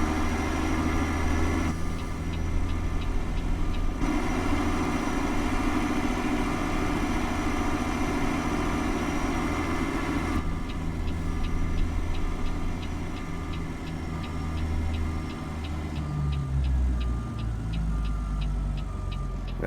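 A Caterpillar 3406B diesel truck engine idles and reverses in American Truck Simulator, a steady low rumble accompanied throughout by a rapid, evenly spaced high-pitched reverse beeping, with no voices.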